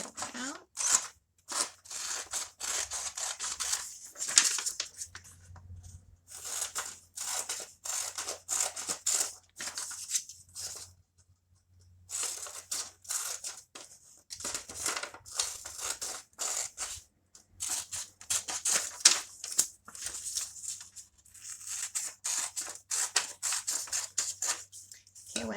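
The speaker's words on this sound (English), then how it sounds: "So we're going to go ahead and cut out." Scissors snip through paper cutting out a square, with quick rhythmic crisp snips in bursts separated by short pauses, close and quiet, and a person speaking softly now and then.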